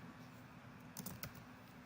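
A computer keyboard is tapped briefly in a quiet room, a short cluster of a few soft, close keystrokes around the middle of the moment, with no voice.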